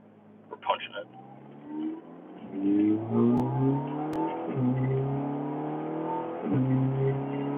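A car engine revs up hard and keeps climbing through the gears, the roar rising and dropping with each shift, loud and close, while driving toward a storm in central Virginia.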